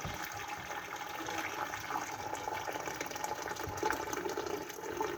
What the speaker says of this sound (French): maintenant, on va mettre l'eau